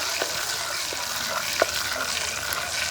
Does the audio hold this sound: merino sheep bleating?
no